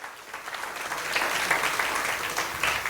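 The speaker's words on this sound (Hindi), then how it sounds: "बहुत जोरदार तालियां एक बार आप सब लोगों के लिए," A seated audience at a sales training talk breaks into steady applause, a dense wash of clapping that swells slightly and holds strongly for a few seconds.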